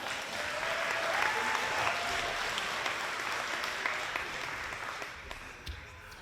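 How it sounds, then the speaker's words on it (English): Audience applauding at a business awards ceremony, a sustained burst of clapping from a crowd heard at a distance, fading out over the last second. "So round of applause for Graydon."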